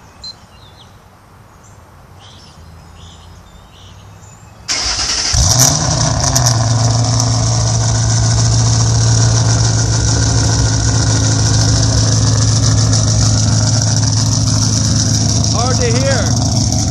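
A 2005 Ford Mustang GT with a Comp Cams Mutha Thumpr cam starting up, the engine catching abruptly after quiet outdoor background and settling into a loud, steady, lumpy idle with a choppy exhaust note close by.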